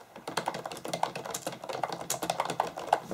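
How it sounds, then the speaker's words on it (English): Rapid, uneven clatter of keys being typed on a soft-sounding Seal Shield Silver Surf waterproof keyboard, a steady run of close clicks with no talking. "it makes a little bit of sound when you're typing"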